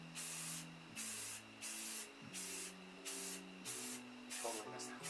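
Repeated short bursts of aerosol spray hissing, about eight in a rhythmic series, close and loud, over a low musical tone in the background.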